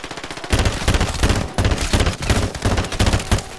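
Rapid video game gunfire against slow-moving enemies, loud bursts pounding in a steady repeating rhythm for several seconds with no voices over it.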